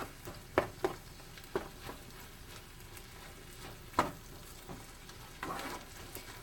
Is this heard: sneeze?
no